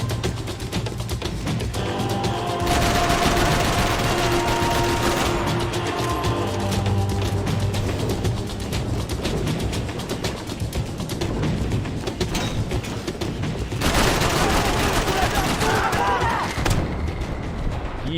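Gunfire in the action shooter game Max Payne 3 rattles in dense bursts and booming shots over steady background noise, with louder volleys early and near the end and no talking.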